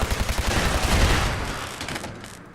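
Automated turret gunfire in Fallout 4, a rapid rattling burst of close shots in quick succession that swells then tapers and thins toward the end, no voices.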